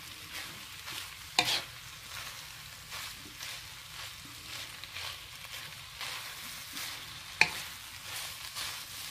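A seasoned food mixture with salt and pepper is stirred in a hot pan, giving steady frying sizzle with soft scraping strokes of the spoon. Two louder knocks ring out against the pan.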